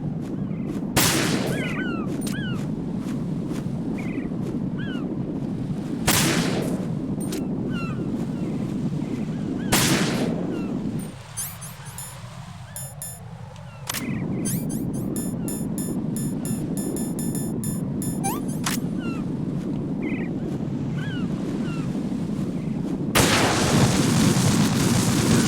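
Gunshots ring out against Semtex explosives in the Metal Gear Solid 2 video game: several sharp loud reports over a dense, constant roar of game ambience, with a brief quieter lull partway through.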